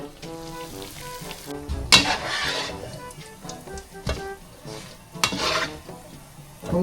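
Sliding maruya (banana fritters) into hot oil in a pan gives a steady close sizzle of frying, broken by a few sharp clinks and scrapes of a utensil against the pan.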